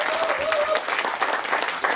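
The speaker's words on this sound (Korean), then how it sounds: "마지막 박수 한번 크게 보내주시고" An audience at a temple festival with Korean traditional singing gives a big round of applause, a thick, continuous crowd clapping with a faint voice mixed in.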